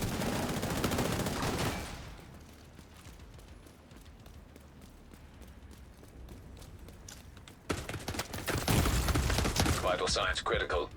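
FAMAS rifle fire in a first-person shooter, a loud stretch of rapid shots at the start and again near the end, with a quieter lull between carrying game sounds and a talking voice.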